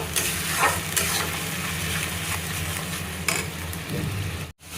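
Masala frying in a pan for fish curry, a loud continuous sizzle with a few scrapes of a spoon stirring it, close up and without speech, ending in an abrupt brief cut.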